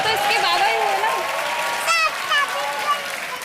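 Studio audience clapping on the set of the Kaun Banega Crorepati quiz show, a steady wash of applause with a voice speaking over it.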